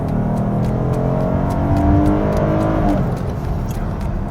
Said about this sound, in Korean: 풀악셀이거든요.